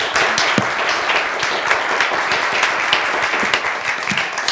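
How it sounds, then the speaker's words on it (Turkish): A studio audience on a TV word quiz show applauds loudly and continuously, a dense wash of clapping from many hands throughout. "Ama bence daha kuvvetli bir alkış hak ettiniz."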